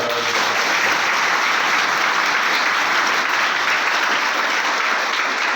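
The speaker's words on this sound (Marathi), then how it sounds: "आपल्या महाविद्यालयाच्या वतीने एकदा टाळ्यांचा कडकडाट झाला" A college prize-giving ceremony audience bursting into sustained applause, a dense, loud and even wash of clapping from many hands that carries through without pause.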